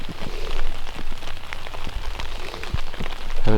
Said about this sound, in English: Conditions have completely changed. It is now raining.